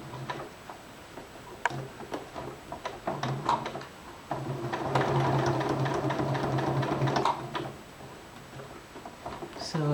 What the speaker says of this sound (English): I'm going to be careful to sew over the pin